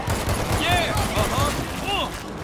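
Rapid gunfire in the zombie shooter game World War Z, dense bursts of shots that run nearly continuously alongside shouting voices and whistling, sweeping game effects.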